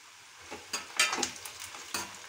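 Onions, green chillies and ginger sauté in a pan, a soft steady sizzle punctuated by several scraping stirs close by, with no talking.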